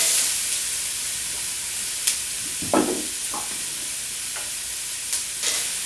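Red potatoes hitting a hot pan of softened onions for vegan mushroom chowder, a constant loud hiss of frying with a few brief stirring scrapes and clinks.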